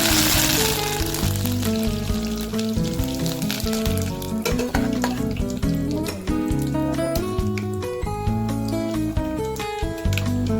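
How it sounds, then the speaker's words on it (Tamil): Curry leaves tempered in hot oil for a Karunai kizhangu puli kuzhambu, giving a loud, continuous crackling sizzle with sharp spatters popping throughout, close up and without speech. "இப்போ கருவேப்பிலையை போட்டு தாளிச்சு விட்டுறலாம்."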